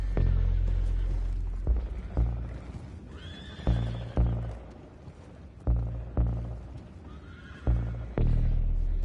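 Horses in the video game Red Dead Redemption 2 let out several loud, close whinnies and neighs spaced a second or two apart, over low rumbling and hoof clops.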